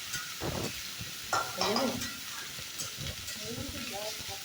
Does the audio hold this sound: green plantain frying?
yes